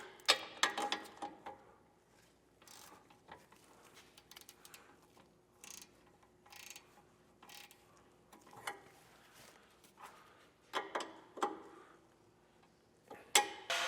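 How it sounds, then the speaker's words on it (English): Torque wrench tightening U-bolts while installing Air Lift LoadLifter 5000 Ultimate air helper springs on a 2020 GMC, heard as scattered sharp mechanical clicks and ratcheting taps in irregular bursts, close by, with quieter handling noises between them. "we'll grab our torque wrench and do that"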